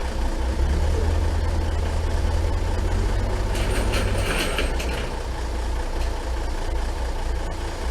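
A snow truck's engine runs steadily at idle as it is eased off a trailer, a constant low rumble with a brief higher rattle midway and no talking.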